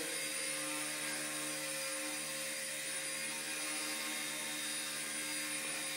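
A Blade Mini CP RC helicopter hovers nearby, a steady high-pitched motor whine with a constant buzzing rotor drone that holds without change.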